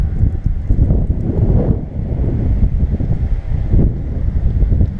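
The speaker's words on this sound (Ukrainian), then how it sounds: "Вітер просто супер." Heavy wind buffeting a GoPro microphone while road cycling near Ternopil, a loud continuous low rumble with gusts rising and falling, no voices.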